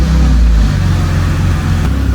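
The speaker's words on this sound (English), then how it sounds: "So I'll go ahead and turn the car on." A BMW E90 3-Series engine running loud and close with a strong low rumble, a brief rev at the start settling into a steady idle, no voices.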